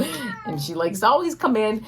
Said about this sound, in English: That's my cat peek.